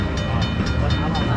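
A slot machine's bonus train sound effect plays in a casino, a loud rumbling rail-like clatter with rhythmic clicks, continuous and dense over the noisy gaming floor.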